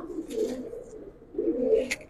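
Giribaz pigeons in a loft give two soft, low cooing phrases close by, each a throaty rolling burr, separated by a brief pause and a faint high chirp.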